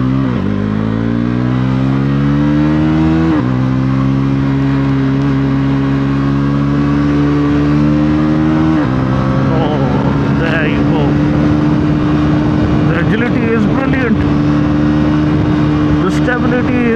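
A high-revving car with a quick shifter accelerates hard, its engine note climbing loudly and dropping sharply at each rapid gear change, close and continuous, with a voice speaking over it.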